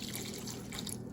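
Milk pours steadily into a pot of partly cooked potatoes, a soft continuous trickling splash.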